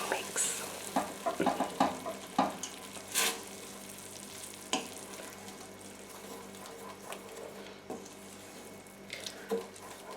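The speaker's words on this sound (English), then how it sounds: "Let me just give it just a little mix." A pan of aloo matar paneer curry being stirred, with soft spoon scrapes and knocks near the start over a low, steady sizzle, the stirring thinning out into quieter bubbling and occasional clinks.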